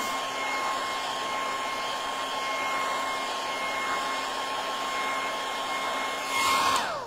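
A hair dryer blows steadily with a constant whine and airy rush, drying stencil paint on a Christmas sign, close and alone, with a brief louder surge near the end.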